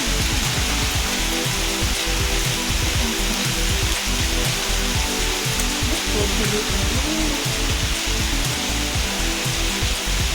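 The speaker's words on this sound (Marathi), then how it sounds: "खूप छान पाऊस पडतो एकदम मुसळधार" A heavy midday downpour drums steadily and loudly nearby. Dense, unbroken rain noise carries faint irregular spatters and knocks.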